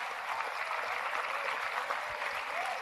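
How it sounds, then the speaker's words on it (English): Steady applause from a large audience honoring students at a university convocation ceremony, a soft, even patter of many hands at moderate distance, continuing without voices. "Please give them a loud round of applause."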